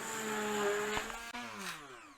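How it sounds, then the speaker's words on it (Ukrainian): Immersion blender working cottage cheese with sugar into a smooth mass, a whirring motor with shifting pitch and a few knocks against the container; brief, near and quiet, with no talk. "І тепер погружним блендером, щоб не перетирати все через сито, я зроблю однорідну масу погружним блендером."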